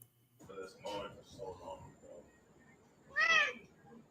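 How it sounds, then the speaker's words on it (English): House cat meowing: a single clear, rising-falling meow near the end, preceded by soft indistinct whispery talk. "This cat is so cute."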